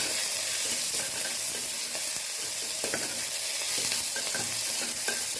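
Onions, curry leaves and green chillies sauté in a hot pan, a dense continuous sizzle close by with repeated spoon scrapes and clicks as they are stirred, no talking.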